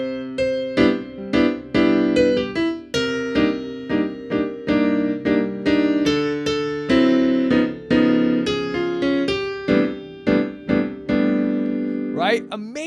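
Solo piano holding a melody on top with a held bass note while chords are comped rhythmically in the middle register, steady repeated chord strikes throughout, played alone.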